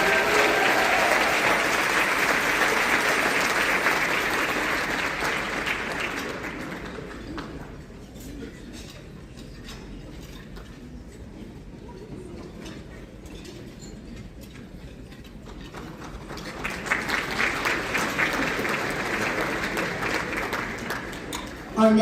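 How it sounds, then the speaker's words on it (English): Audience applause at an award ceremony, a broad crowd clapping that fades to a quieter stretch in the middle, then swells again loudly near the end. "join me in giving them a big round of applause"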